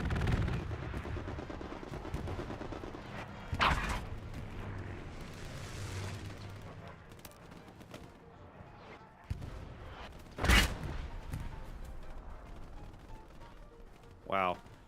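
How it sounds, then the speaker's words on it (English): Gunfire in the World War II shooter Hell Let Loose, in the back alleys of Tobruk: a few sharp shots burst out at intervals over steady battle ambience, with someone talking throughout. "Somebody's behind me shooting at me."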